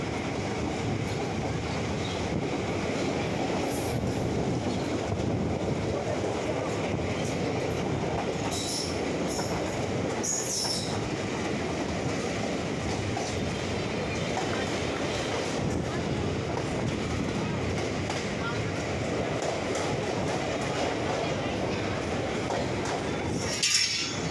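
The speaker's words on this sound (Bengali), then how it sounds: "ট্রেন ঢুকে পড়েছে" A train pulling into Rampurhat station platform in West Bengal, a continuous rumbling roll of wheels on rails throughout, with brief high squeals of the wheels in the middle and a faint murmur of voices.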